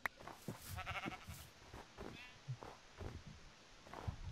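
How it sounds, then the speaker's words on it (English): Sheep bleat in the Minecraft video game, a string of short, nasal wavering cries. They sound fairly quiet and blend with soft in-game footsteps and low noises, with no speech. "There's another sheep over here."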